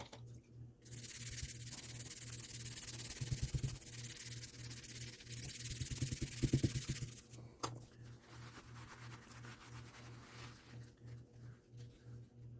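A pad loaded with toothpaste rubs over the metal of a knife blade, giving close, raspy back-and-forth scrubbing strokes in two long bursts, with a low steady hum running underneath and quieter gaps between.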